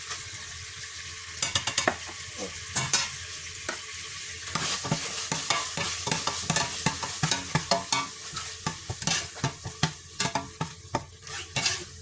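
Thai red curry paste being stir-fried in oil for a chicken curry noodle sauce, with continuous loud sizzling and rapid, repeated scraping and knocking of a spatula against the pan, close up; no voices.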